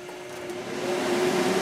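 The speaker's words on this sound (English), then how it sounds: "so I'm going to turn the fan on." Electric fan, switched on to clear toxic bamboo fumes beside a hot Tesla coil, gives a steady close whir with a faint motor hum that slowly swells as it comes up to speed.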